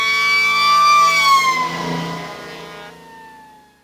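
A vehicle horn sounds as a steady loud tone, then its pitch drops sharply as it passes, demonstrating the Doppler effect, before fading away.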